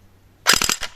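A J.G LK58 airsoft rifle fires a short full-auto burst with electric blowback, several rapid sharp cracks bunched together up close, then one last shot after a brief gap.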